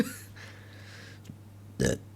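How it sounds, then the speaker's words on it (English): A single short burp sounds close to the mic near the end, following a quiet stretch with a faint steady hum and a soft click. "You're gonna hear me burping quite a bit."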